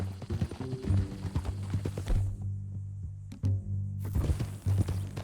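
Horse hooves clip-clop at a steady walking pace in the Red Dead Redemption 2 video game, moderately close, with a low ambient drone underneath and brief louder thuds.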